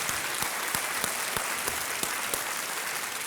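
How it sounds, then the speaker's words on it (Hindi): Studio audience on a televised quiz show breaks into sustained applause, a dense, steady wash of clapping with a few sharper claps standing out, no voices over it. "तालियों के साथ इनका अभिनंदन"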